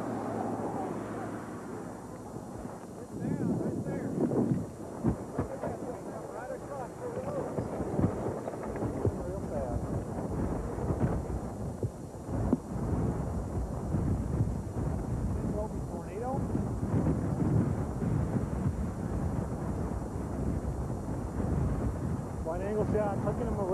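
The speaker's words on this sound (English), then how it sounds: "East wind's very strong." Strong east wind roars and buffets the microphone during a tornado, a continuous low rumbling gust noise that fills the whole stretch, with a voice talking over it at times.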